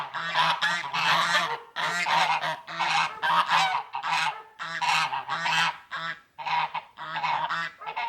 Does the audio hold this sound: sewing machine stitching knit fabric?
no